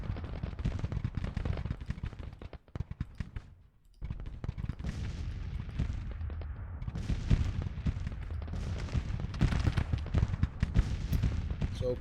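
Dense volleys of artillery and rifle fire in a Grand Tactician American Civil War battle, spring 1861, as Confederate and Union guns trade counter-battery shots; loud, continuous rumbling booms and crackle, with a brief lull before resuming.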